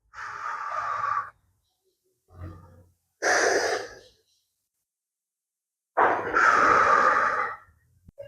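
Four forceful breaths pushed out through the mouth during a dumbbell chest press, close and loud, each a short rushing exhale separated by near silence.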